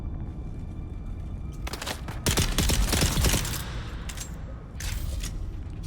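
Bursts of gunfire from a horror-themed shooter game, loud and dense in the middle with rapid overlapping shots, then tapering into scattered reports.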